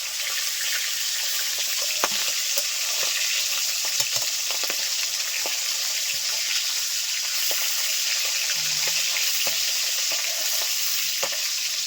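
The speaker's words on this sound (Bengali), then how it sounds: "আস্তে আস্তে মাছগুলোকে ভেজে নেবে" River fish fry in oil with a continuous, bright crackling sizzle that holds level throughout, dotted with small pops and an occasional faint clink.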